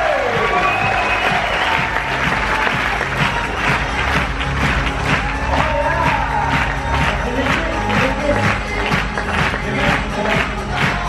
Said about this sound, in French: d'accueillir sous un tonnerre d'applaudissements mon ami Dave Wheeler